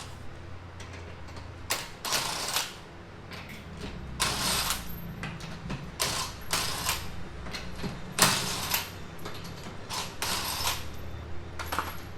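Metallic clanks, creaks and clicking tool noises come in uneven bursts as the wheel is taken off a Lexus CT200 or Toyota Prius. They are close and moderately loud over a quiet workshop background.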